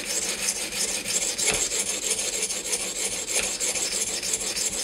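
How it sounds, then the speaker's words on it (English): Steady abrasive rasping of a Spyderco Paramilitary 2 knife with CTS-20CP steel being sharpened on an Edge Pro guided system, grinding toward the edge in continuous close strokes with no talk. "Just grind all the Sharpie off."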